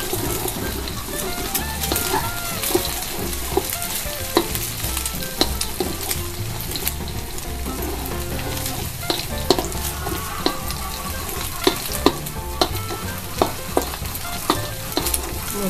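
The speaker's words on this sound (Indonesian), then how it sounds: "dadar telur atau goreng telur yang sudah" Beaten eggs sizzle and crackle in hot oil while a utensil scrapes and taps against the wok in quick, irregular strokes.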